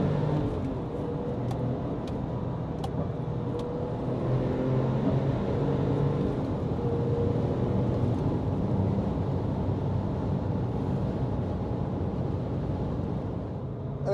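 A 2007 Porsche 911 Turbo (997.1) in sport mode drives at speed, its engine a steady droning rumble heard from inside the cabin, with road and wind roar, swelling slightly partway through.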